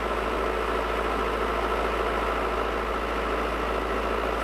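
Newly installed A/C compressor running on an Isuzu Elf truck being built into a camper, a steady even droning hum with low vibration, continuous and unchanging, no talk.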